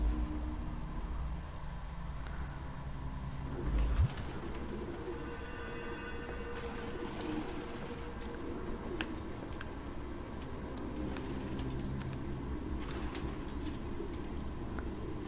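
Pigeons coo steadily through an ambient scene in the video game Detroit: Become Human, a soft bird murmur continuing under a low background hum with a brief flutter near the start.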